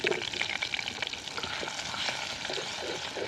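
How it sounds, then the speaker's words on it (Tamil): Green chili, onion and ginger-garlic paste sauté in a pan with a loud, continuous sizzle, broken up by close scraping and stirring clicks. "நல்லா வதக்கிக்கலாம்"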